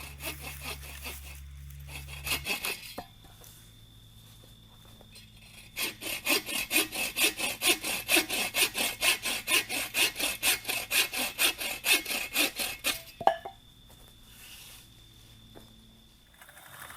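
A hand saw cuts firewood on a hiking trip, with a rapid, rhythmic run of back-and-forth strokes in the middle of the clip. Quieter rubbing and handling noises come before and after the strokes.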